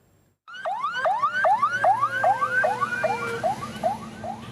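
An ambulance siren in Iraq sounds a rapid repeating upward whoop, loud and close, starting abruptly and cycling about twice per second before fading slightly.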